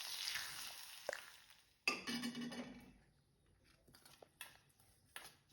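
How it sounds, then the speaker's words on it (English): Hot oil poured over green chili for a lunch-box side dish, giving a sharp sizzle that flares loud then settles into quieter crackling, with a few clinks of a utensil. "Now add the hot oil to the green chili."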